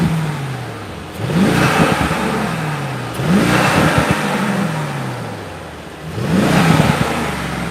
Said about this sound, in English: do you want me to rev it with the engine up?